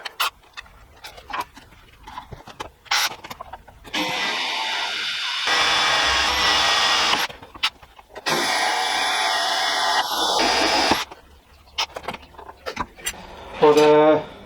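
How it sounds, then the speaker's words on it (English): Two sustained bursts of high-pitched power-drill whine as it drills holes in metal, each several seconds long, with one pitch dropping mid-burst; quieter clicks and handling noises surround them. "So now I can drill the rest of the holes,"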